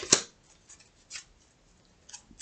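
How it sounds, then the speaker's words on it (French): A tarot card is pulled from the deck with one sharp flick near the start, followed by a few faint card rustles and brushes in an otherwise quiet room. "je reprends une carte"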